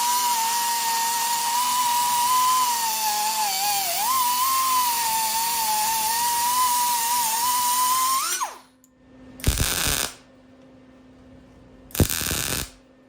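A long, steady high-pitched power-tool whine on a Crown Vic car body panel stops, then two short, crackling tack welds are laid on the panel, each about a second long, in near silence.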